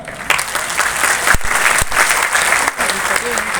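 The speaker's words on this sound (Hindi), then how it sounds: "मैं आप सबसे चाहूंगा एक बार आप जोरदार तालियों से स्वागत करिए" Loud applause from a large crowd of students at a seminar meetup in Patna, dense continuous clapping with a few sharp thumps, close and sustained throughout.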